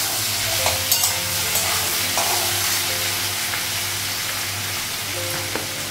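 Food fries in a pan with a dense, steady sizzle and crackle, broken by a few light clinks and scrapes of stirring.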